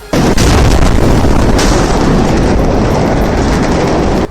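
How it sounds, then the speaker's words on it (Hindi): A massive blast at a firecracker factory in Harda, a loud, sustained roaring boom that fills the whole stretch at full level, with a sharp secondary burst partway through before it cuts off. "पटाखा फैक्ट्री में हुए इस धमाके की वजह से"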